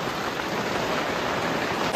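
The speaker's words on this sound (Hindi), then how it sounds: "बारिश स्टार्ट हो गई है। साथ में ओले भी पड़ रहे हैं बहुत ज़्यादा" Steady heavy rain mixed with hail pounds down on a mountain trek near Triund, a dense continuous hiss of drops and pellets hitting surfaces, close and unbroken with no voices.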